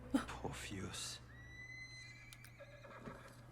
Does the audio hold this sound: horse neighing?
yes